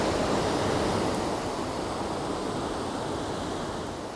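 Stuttgongfossen waterfall in Norway pours into a swirling pool, a dense, even roar of falling water that stays loud and constant throughout with no voices over it.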